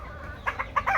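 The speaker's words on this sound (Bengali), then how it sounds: "এই যে আরো বড় বড় মুরগ, দেশি মুরগি" Native deshi chickens on a farm cluck in a few short, quick bursts, close and moderately loud over a quiet background.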